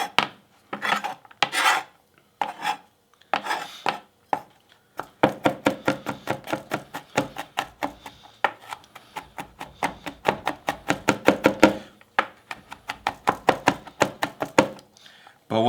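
A knife taps and rasps repeatedly on a cutting board while mincing garlic, with slow scattered strokes at first and then a quicker, steady run of close chopping.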